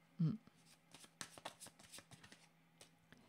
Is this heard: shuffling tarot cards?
yes